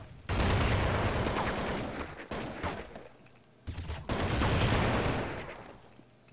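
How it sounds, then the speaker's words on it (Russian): Dense bursts of gunfire from a Counter-Strike match at a 2012 esports cup, loud and sustained with a brief lull mid-clip before the shooting resumes. "Стрельба, Колон бедный один остался."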